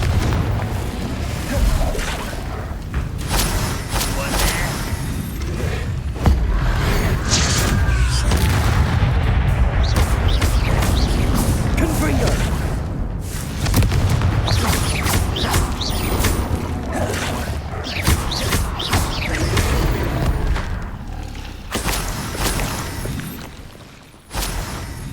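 Repeated booming blasts from the Confringo spell in a Harry Potter video game, loud and crashing, layered over constant game noise and music, with brief gaps between the explosions.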